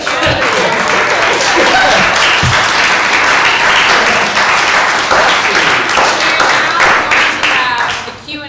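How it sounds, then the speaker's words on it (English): A festival workshop audience claps, producing loud, dense, sustained applause that holds steady for several seconds before tapering off at the very end. "So let's give a round of applause for Theresa."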